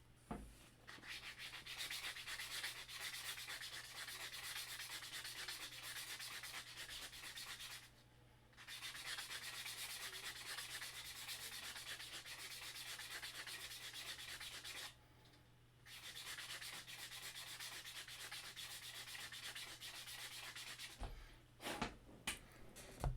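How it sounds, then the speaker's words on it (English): Steady, rhythmic scraping of a 180-grit sanding block, up close and sustained, broken by two brief pauses and ending with a few knocks. "This is a 180 grit sanding block, and they're great."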